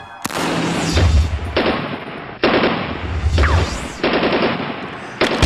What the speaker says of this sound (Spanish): Yo disparo mi arma, la gente se desploma.